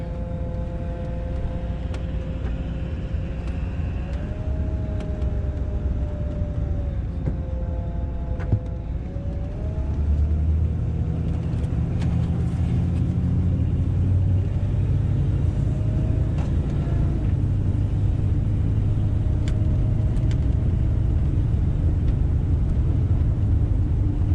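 A vehicle drives along the road toward St George, giving a steady, continuous engine and road rumble with tire noise throughout and a slight rise in low drone partway through.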